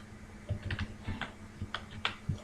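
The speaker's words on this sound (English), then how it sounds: "So we are going to just type incomplete in the data set." Fingers type on a computer keyboard while entering data in Microsoft Excel 2019, giving a close run of light, uneven key clicks with a low background hum.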